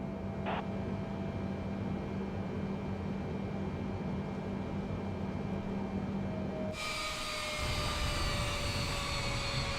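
Simulated Boeing 787 jet taking off from runway 16 in Microsoft Flight Simulator 2020 at Dzaoudzi, Mayotte; a steady engine drone with whining tones swells louder and brighter after about seven seconds.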